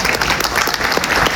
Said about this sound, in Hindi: सर को निश्चय पाई जोरदार ताली